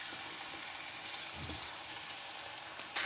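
A second batch of snacks frying in hot oil, a steady close bubbling sizzle with no voices.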